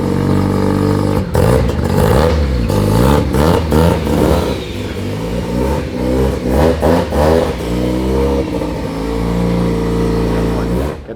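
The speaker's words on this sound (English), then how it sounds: "Get the car on the dyno, strap it down, and then we get to make cool noises" A car strapped to a dyno in a workshop revs repeatedly, its engine rising and falling in sharp bursts with clattering and rattling, loud and close, and some brief talk in between.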